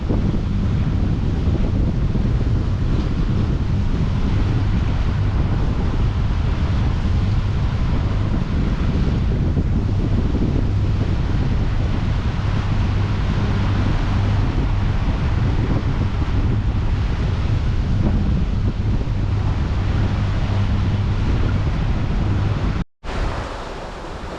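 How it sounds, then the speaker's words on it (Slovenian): Strong wind buffeting the microphone aboard a Lagoon 43 sailing catamaran at sea, a loud continuous roar with wash of water and a low engine hum underneath, no voices. "da bo veter začel pihati, tako kot je napovedano"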